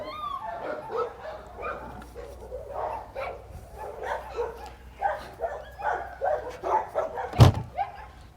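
Dog barking and whimpering on seeing another dog through a kennel, a string of yips, whines and soft woofs at close range, ending in a sharp loud bark.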